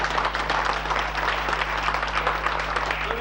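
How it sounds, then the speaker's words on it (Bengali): An audience applauds at a meeting to approve a committee, a dense, sustained clapping of many hands from start to finish, with a steady low hum underneath. "আমার মাধ্যমে আরেকটা করতালি দিয়ে আমরা এই কমিটিকে অনুমোদন করব।"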